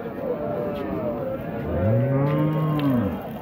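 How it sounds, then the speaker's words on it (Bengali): A dairy cow, an older milking cow, moos at a cattle market, a long drawn-out low call swelling in the middle, set against a steady crowd murmur. "সুন্দর তলাবানের একটি গরু যদিও বয়স একটু বেশি"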